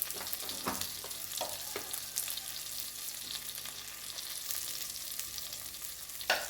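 Chili powder and coriander powder stirred in hot oil for a bitter gourd curry: a busy sizzle broken by several sharp spoon scrapes against the pan, near and fairly quiet, no talking.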